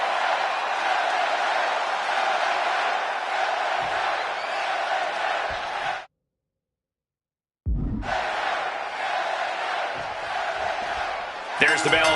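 Arena crowd in the WWE 2K26 wrestling video game roaring and cheering for LA Knight, a dense sustained roar that cuts out briefly to silence, then resumes with a sharp burst near the end.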